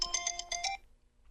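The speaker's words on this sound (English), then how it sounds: "who in the world is calling me now? Who in the world leaves their phone on during the show?" A phone ringtone trills in rapid, bright repeated pulses close by for just under a second during a live talk show, then cuts off into quiet.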